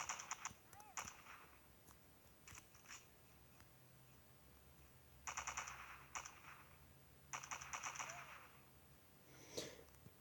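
Machine gun fire in a multiplayer shooter video game comes in several short, rapid bursts separated by pauses, fairly faint over quiet background noise.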